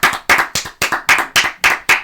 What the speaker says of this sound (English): Can we get a round of applause to Danny Mendick?